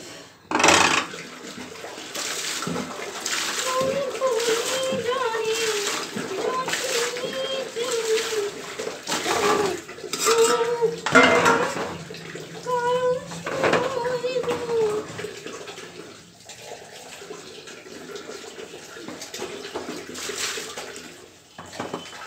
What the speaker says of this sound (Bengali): বাজারগুলো ধুয়ে দিই।